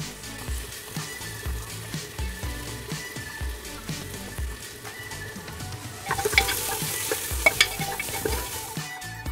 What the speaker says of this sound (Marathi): आता त्यात साऱ्या पेस्ट घालून घेत आहे।